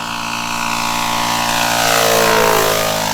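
The engine of a quarter-scale Sopwith Pup radio-controlled biplane runs at mid throttle with a steady, buzzing drone. The pitch rises and falls slightly as it passes fairly close overhead, and nothing else is heard.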